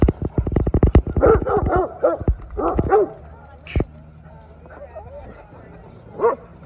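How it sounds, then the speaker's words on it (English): Several dogs in a pack bark and yip in a rapid burst, close and loud, then trail off into scattered barks with some background talk and a later single yelp. "All the other dogs are barking at him."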